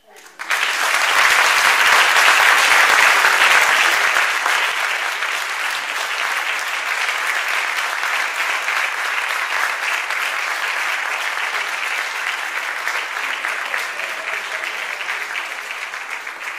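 Sustained audience applause fills a theatre at the closing ceremony of a national theatre competition, loud and dense at first, then easing slightly but continuing steadily throughout.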